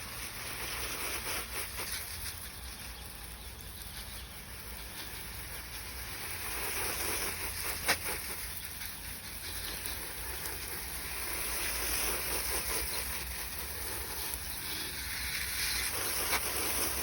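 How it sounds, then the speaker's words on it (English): Water poured from a hose or can onto garden bed soil where tomato seedlings are planted outdoors, a steady soft splashing hiss running throughout at moderate level, with no talking. "I'll give the dirt a little drink."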